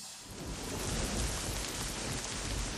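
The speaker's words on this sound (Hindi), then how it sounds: "उस दिन बारिश हो रही थी" Steady rain falls as a sound effect in an audio story, a dense continuous hiss with a low rumble underneath, fairly loud and unbroken, with no voices.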